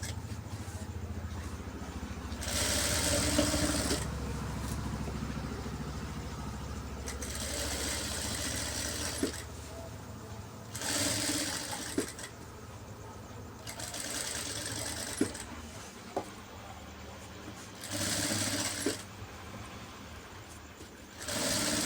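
A sewing machine runs point stitching on an embroidered blouse in repeated bursts of steady whirring, each run lasting a few seconds between short pauses with small clicks and handling noises, close and fairly quiet.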